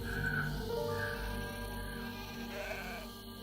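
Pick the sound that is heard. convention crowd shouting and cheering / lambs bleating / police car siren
lambs bleating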